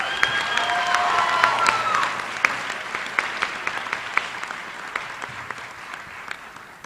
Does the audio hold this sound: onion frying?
no